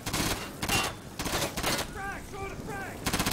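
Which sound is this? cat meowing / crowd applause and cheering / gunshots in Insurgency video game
gunshots in Insurgency video game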